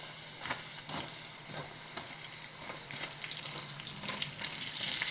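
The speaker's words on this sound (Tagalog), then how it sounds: "Pirituhin natin to into medium heat hanggang sa mag-golden brown ito." Longganisa sausage deep fries in hot oil over medium heat, giving a steady, close crackling sizzle with occasional louder pops and stirring scrapes, and no talking.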